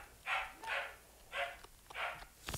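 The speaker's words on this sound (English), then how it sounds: "my mom is yelling at my dogs" Dogs barking indoors at a moderate distance, four separate bark bursts in an uneven rhythm, with a short sharp knock at the end.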